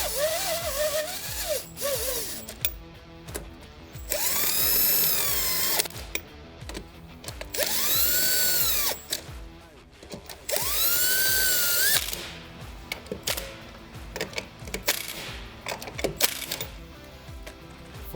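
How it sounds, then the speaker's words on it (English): Impact wrench running down the bolts on a BOSS SR MAG snowplow during hydraulic service: several loud whirring-rattling bursts of two to three seconds each, separated by short pauses and handling clatter, with no talk. "I'm using the impact to get the bolts started"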